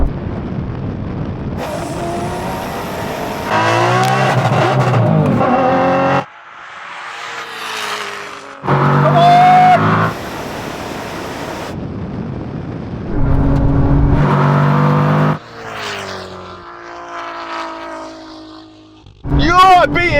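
A Koenigsegg, a Porsche 911 Turbo S and a tuned 1000hp Audi TT launch in a standing quarter-mile drag race, loud engines roaring and revving in bursts between gear changes, with excited talk over and between the runs.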